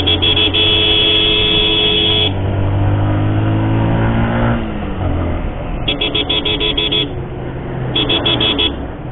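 A heavily loaded vehicle labouring up the 24th hairpin bend of a steep hill road in Karnataka, its engine droning and straining loudly nearby while repeated horn honks sound over it.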